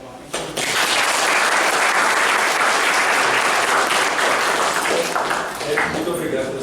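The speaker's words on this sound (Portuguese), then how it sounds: "Vamos aplaudir o Eric lá." An audience at an artificial intelligence talk applauds after a presentation, a dense, sustained wave of clapping that starts abruptly and tapers slightly, with voices mixed in.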